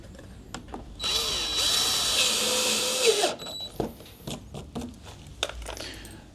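A power drill drives self-tapping screws into the bodywork of a Range Rover Vogue, one loud close whir of about two seconds followed by scattered clicks and handling clatter.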